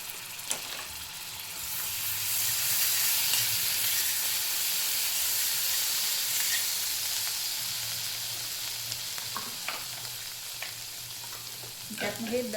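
Ginger garlic paste and cumin sizzle in melted butter as a steady, broad frying hiss that swells and holds and then eases, with a few faint clinks near the end.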